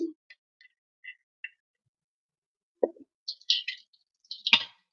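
Potato pieces drop into hot mustard oil in a pan while potol is cooked with shrimp paste: a few soft, separate plops and light clicks spread over several seconds, with quiet gaps between them.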